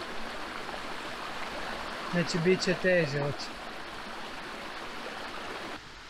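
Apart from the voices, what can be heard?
mountain waterfall and stream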